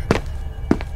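Two heavy, close footsteps from walking in an SCP video game, spaced about half a second apart, each a dull thud with no voices.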